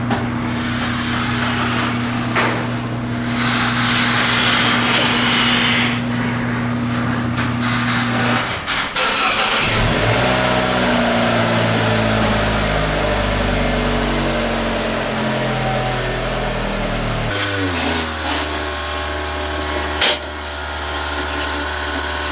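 Restored Fiat car engine idling and revving as the car pulls away, loud and close with steady running tones that shift in pitch partway through, then a clunk and renewed revving.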